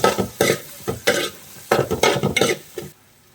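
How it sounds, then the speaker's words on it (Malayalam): Tomatoes and chilli with turmeric and curry leaves are sautéed in a pan for Kottayam-style duck mappas, a spoon scraping and stirring in quick, rhythmic bursts over a soft sizzle, close and fairly loud, before stopping. "ഇനി നന്നായിട്ടൊന്ന് വഴറ്റിയെടുക്കാം."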